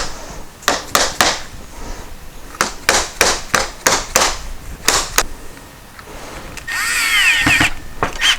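Power drill driving screws into a rotten cargo trailer door under repair, in short repeated bursts of whirring, each a second or less, with a longer higher-pitched run near the end.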